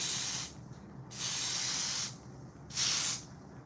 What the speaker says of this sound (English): So here I'm gonna add a little bit of spray around the hairline.